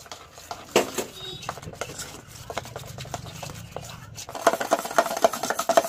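A ladle beating gram flour batter for boondi in a bowl, soft scraping and stirring knocks with light clinks, growing busier and more rhythmic toward the end, no talk.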